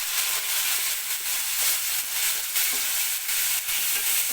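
Onions frying in two spoons of oil for a Telugu-style chicken curry, a continuous bright hissing sizzle with gentle pulsing stirs, close and steady with no talking.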